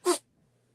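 A single short sneeze bursts out at close range and ends abruptly, followed by near silence with a faint low hum.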